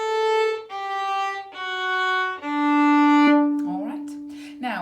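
Solo violin plays a slow, clearly separated descending scale from the fiddle tune "Patrick's Reel". Four sustained bowed notes step downward, close and moderately loud, with a short scraping flourish at the end.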